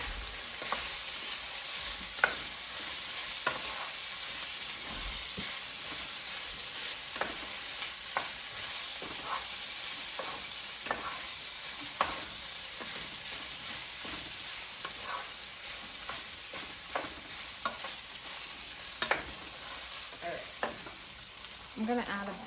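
Peas and rice for Mexican rice brown in a hot pan, giving a steady soft sizzle broken by scattered spoon scrapes and clicks throughout, close up and with no talking.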